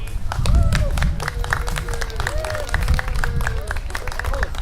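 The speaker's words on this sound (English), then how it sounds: "so everybody knows and we cheer at the same time" A crowd at a business headquarters grand opening cheers and claps together on cue, close and lively, with whoops and rising shouts over a steady patter of hands.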